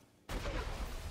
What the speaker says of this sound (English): You can see it just shoots one rocket thing